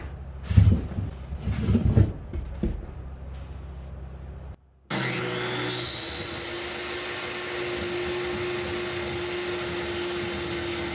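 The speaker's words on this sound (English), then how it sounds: "I just got the Dremel for Christmas. The oscillating tool, whatever you call it." A Dremel oscillating multi-tool cutting during a laundry chute build in an off-grid house, starting abruptly after some handling knocks and then holding a loud, steady high-pitched buzzing whine.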